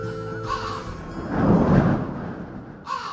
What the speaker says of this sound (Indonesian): Suara burung gagak mulai terdengar bersaut-sautan